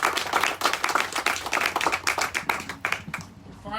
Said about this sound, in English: Round of applause from my boss.